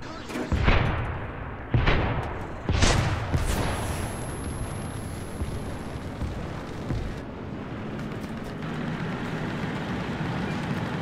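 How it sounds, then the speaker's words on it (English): Auto cannons in War Thunder fire a few loud, spaced bursts of booming shots early on, then fade into a rumbling, lower background of battle noise. "Auto cannons are fun."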